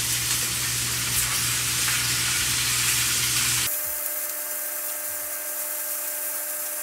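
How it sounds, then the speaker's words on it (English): Broccoli and beef fry in butter in a pan while being stirred, with a loud, dense sizzling hiss that abruptly drops to a thinner sizzle under a steady electrical whine. "Put in that broccoli. Put in that beef. And you're gonna wanna stir it up so that the butter"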